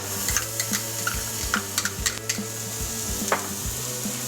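Shallots and butter sizzle in a pan, a steady close frying hiss broken by repeated light clicks and scrapes of stirring, with no talk.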